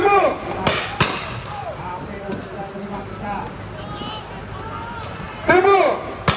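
Sharp gunshots ring out during a police and military riot-control drill, with shouted commands and crowd voices around a few loud cracks near the start and end.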